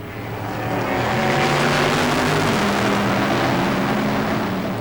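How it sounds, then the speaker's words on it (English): Mosler race car with a rear-mounted Corvette engine accelerating on track during a Supercar Challenge round at Assen, a loud sustained engine roar that swells and holds steady. "using the power of that Corvette motor in the back of the Mosler to move himself up to fourth place"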